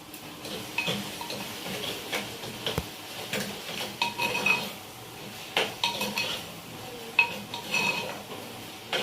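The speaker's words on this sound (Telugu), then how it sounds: "వంకాయ ముక్కలు వేస్తున్నాను" Brinjal pieces go into a pan of prawn and raw mango curry, with a string of light metallic clinks, scrapes and taps from a spoon against the pan, fairly quiet and irregular.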